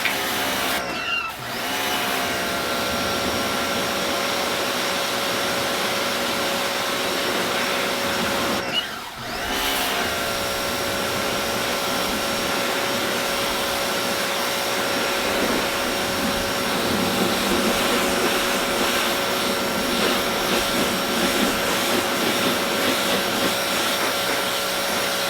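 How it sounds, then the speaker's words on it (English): A Sun Joe 1800PSI electric pressure washer cleaning wooden stairs gives a loud, steady motor whine and spray hiss that runs almost continuously, cutting out briefly twice near the start. "we're going to see if this compact pressure washer is more than enough to do it"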